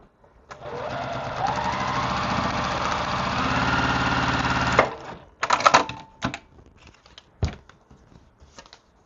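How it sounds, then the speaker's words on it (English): A sewing machine stitches a long seam in quilt fabric, running in one steady whirring burst of about four seconds before stopping, followed by a few soft clicks and handling knocks. "So now I'm just going to sew down this entire line for 3."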